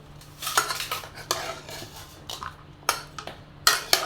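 Ingredients with oil being mixed in a bowl, with a spoon clinking and scraping against the dish in short, uneven bursts and a few sharper knocks near the end.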